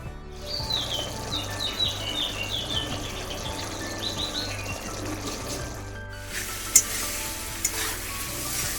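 Spices cook down with sour yogurt in a pan for a meat curry with banana flower, giving a continuous close sizzle with regular stirring scrapes and a couple of sharp utensil knocks.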